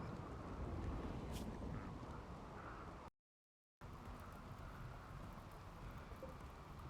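Steady rain hissing in the colony-building game Rimworld, a broad even wash that fills the clip alone, broken by one brief silent gap partway through.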